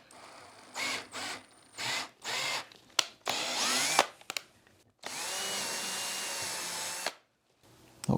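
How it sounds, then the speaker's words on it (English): A 5mm bit drilling holes in a 3D-printed dust collection adapter, a handheld drill whirring in several short bursts, then one longer steady run, close and loud. "So now I can take a 5mm drill bit. I'll just try one first."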